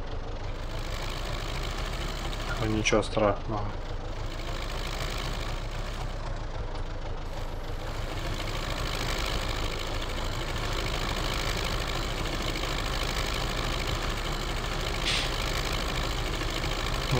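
Tractor engine of an MTZ 82 pulling a four-body plough through soft soil in Farming Simulator 19, a steady droning hum that runs throughout with a brief clatter early on and a short spoken remark over it.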